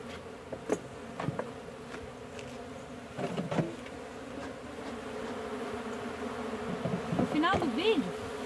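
Honeybees buzzing steadily close around an old hive frame, with a drone among them. Individual bees pass near now and then over the continuous hum.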